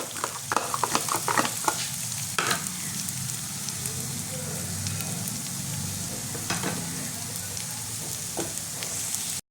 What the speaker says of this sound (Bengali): ভালো করে আমি কষাবো। মশলাটা আমার কষা কষা হয়ে গেছে।